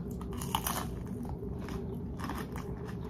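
Crunchy potstickers are bitten and chewed close to the microphone, giving a run of crisp crackling crunches with a steady low chewing rumble underneath and no talk.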